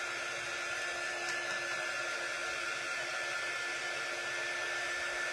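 A hair dryer blows continuously at a steady, even roar, drying paint up close with no pauses.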